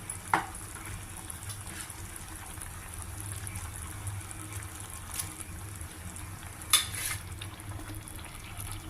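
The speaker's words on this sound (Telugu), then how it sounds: "మొత్తం అంతా అన్నీ ఉడుకుతున్నాయి" A pot of vegetable curry bubbles quietly at a steady simmer, a soft, continuous boiling hiss with a couple of brief clinks, and no talk over it.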